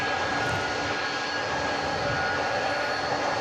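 Jet engines of a tri-jet airliner on its takeoff roll at DFW Airport, a steady, loud broadband roar with a whining tone that holds evenly throughout, with no talk over it.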